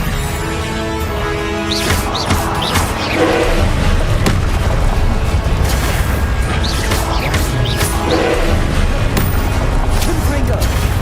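Spell combat in the video game Hogwarts Legacy, with the Expelliarmus disarming spell cast amid repeated booms, crashing impacts and bursts over a steady rumbling bed, with voices shouting through the fight.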